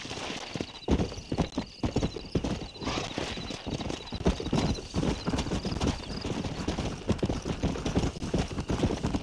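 Horses gallop with rapid, heavy clip-clopping hooves and an occasional whinny, loud and continuous throughout, in the video game Red Dead Redemption.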